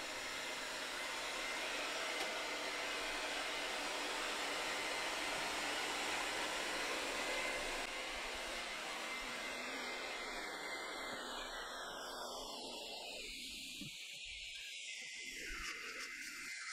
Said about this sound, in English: I'm going to show you how it actually vacuums up really, really well using these settings.